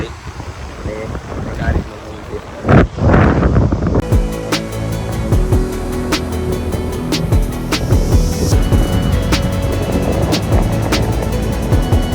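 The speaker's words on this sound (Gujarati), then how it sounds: "બીચ પર આવો તો જોરદાર ઠંડો ઠંડો પવન આવે છે" Strong, cold wind gusts at Juhu Beach, Mumbai, buffeting the microphone with a rough roar, mixed with muffled voices and scattered background noise.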